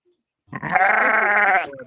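A video-game sheep lets out one loud, drawn-out bleat lasting just over a second, close and alone, with no talking over it.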